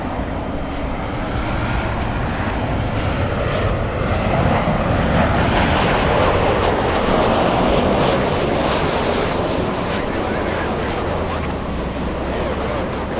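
A Delta Boeing 767-300 jet airliner bound for JFK, lined up on the runway, gives off a steady, loud roar of engines that holds for the whole stretch with no break.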